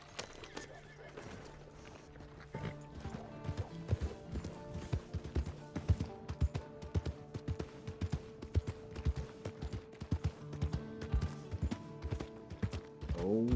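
Horse hooves clip-clop steadily in Red Dead Redemption 2 Online, a rhythmic run of close, distinct hoof strikes with occasional whinny-like tones mixed in, heard without talk.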